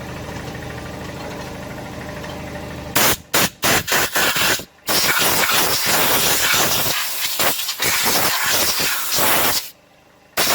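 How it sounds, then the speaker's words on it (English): Compressed air blown through an engine part during timing chain work; a loud steady compressor hum gives way to harsh, forceful hissing bursts in irregular spurts, close up. "I'm going to blow that out with some compressed air"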